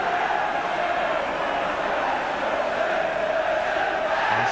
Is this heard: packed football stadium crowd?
yes